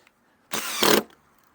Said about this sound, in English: we can come back with our drill and our screw